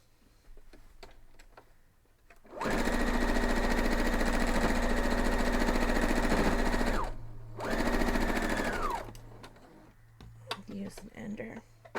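Sewing machine stitching a quilt block seam for a Flying Dutchman block, a loud steady motor whir running about four seconds, a brief pause, then another shorter run, with quiet handling noises before and after.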